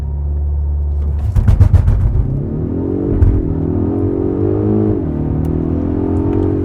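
2021 Polestar 1 hybrid launching hard from a brake-boost start, a close engine rumble rising in pitch as it accelerates through gears, with a brief rough burst early on and no talk.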